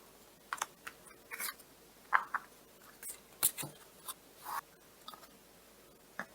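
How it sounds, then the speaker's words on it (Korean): Tarot cards drawn from a deck during a weekly fortune reading, giving soft, irregular papery flicks and light taps scattered through a quiet room, close by with no talking. "카드를 뽑아보도록 하겠습니다"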